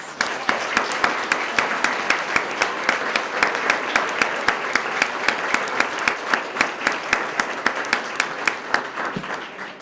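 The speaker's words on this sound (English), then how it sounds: "Let's give them another round of applause." An audience at a police swearing-in ceremony applauds continuously for about ten seconds, a dense, steady clapping that fills the room before fading slightly at the end.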